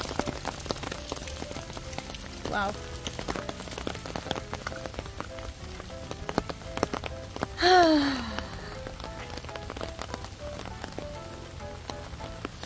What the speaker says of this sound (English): it's raining right now. I'm so happy. It's raining.